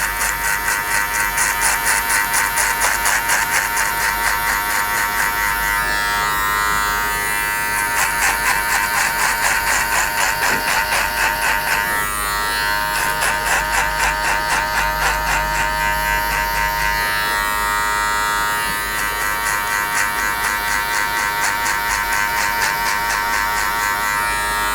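Electric hair clippers fitted with a number 2 metal guard buzz loudly and steadily while cutting hair for a skin fade, the motor tone shifting slightly as the blade moves through the hair in passes, with no talking.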